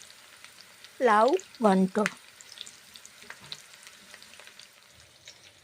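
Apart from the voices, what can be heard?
frying chopped onions, stirring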